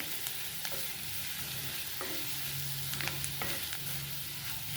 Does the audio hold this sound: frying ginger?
yes